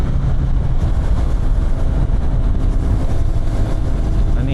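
A Kawasaki Ninja 1000 motorcycle engine heard nearby on the road, a loud continuous low rumble and drone that holds steady throughout with no speech.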